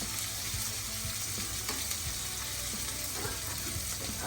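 Kapampangan sisig sizzles steadily in a hot pan, a dense continuous frying hiss with faint scraping stir sounds and no voices.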